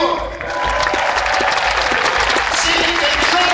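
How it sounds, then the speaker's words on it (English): Sustained audience applause at a Los Angeles inauguration ceremony, dense steady clapping from a large crowd continuing throughout, with faint voices and cheers mixed in. "let's give a round of applause to City Attorney Mike Fuhr"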